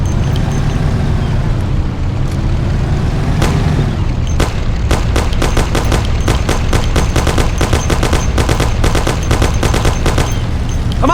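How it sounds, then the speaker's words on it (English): Thompson submachine gun in the Mafia game fires long, rapid, loud bursts over a constant low rumble of a moving car, with the shots growing dense and continuous in the second half. "Take my Thompson. You and Sam shoot them."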